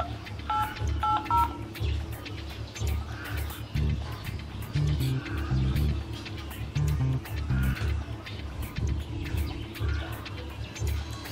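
Telephone keypad tones beeping in quick groups as a number is dialed, clear against a busy outdoor background with voices.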